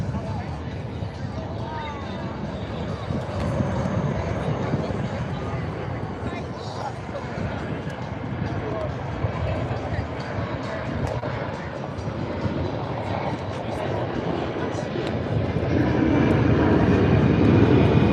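A C-17 military transport plane flies slowly past at the Beale AFB airshow, its engines making a loud, continuous roar that swells toward the end, with crowd murmur underneath.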